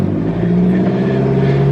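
A car engine revs steadily, held at a constant high idle near 2,000 RPM while the gas pedal is pressed, a loud continuous hum with no talk over it.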